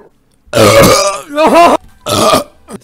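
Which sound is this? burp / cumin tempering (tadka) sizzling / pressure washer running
burp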